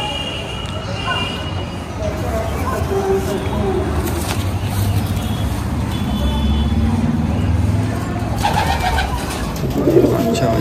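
Pigeons cooing in low, rolling murmurs throughout, mixed with dense background hum and passing traffic, while a person talks over them.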